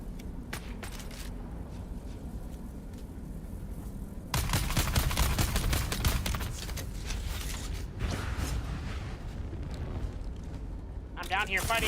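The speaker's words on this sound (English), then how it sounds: "They're throwing grenades." Grenade blasts in the desert survival game Dune Awakening: a heavy burst erupts midway into rumbling, crackling combat noise, with fainter bangs around it and a voice talking under the fighting.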